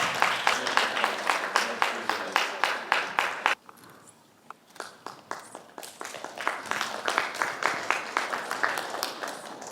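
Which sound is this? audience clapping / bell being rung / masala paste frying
audience clapping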